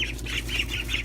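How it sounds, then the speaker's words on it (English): Young Swedish and Khaki Campbell ducklings in a brooder give a steady run of high peeping calls, about five evenly spaced bursts, over a loud constant low hum. "these little penguin looking ducks, our Swedish ducks, and then of course the brown ones here are khaki Campbells"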